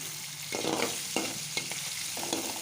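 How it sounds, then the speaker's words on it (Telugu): Upma ingredients deep frying in oil in a kitchen pan, a loud continuous sizzle with a few stirring strokes and scrapes breaking through, close and without talk. "ఇలా డీప్ ఫ్రై కావాలి మనకి"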